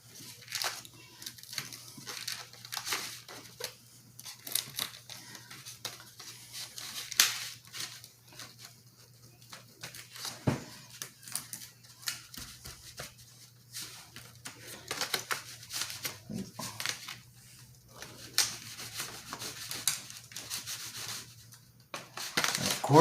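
Knife sawing through a hot yeast-free pizza, giving repeated scraping, crackling rubs of crust against the blade, close and fairly quiet, with irregular bursts over a steady background hum.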